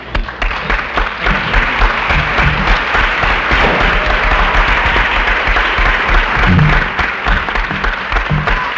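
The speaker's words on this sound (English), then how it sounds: "Now let's hear, ladies and gentlemen, a round of applause for Professor Rice." Audience at a 1973 lawyers panel gives a sustained round of applause for a speaker, loud, dense clapping throughout with scattered louder bursts and no talk over it.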